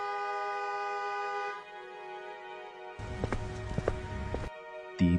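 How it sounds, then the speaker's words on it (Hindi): Car horns honk outside in a staged sound effect: a sustained tonal horn blast, then a busier burst of overlapping honks and clatter, ending with a short sharp toot. "तभी अचानक बाहर गाड़ियों के हॉर्न की तेज आवाज गूंजी।"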